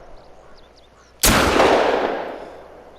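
A single loud, close shotgun blast fired at a turkey in theHunter: Call of the Wild, with a sharp crack and a long rolling decay fading over more than a second.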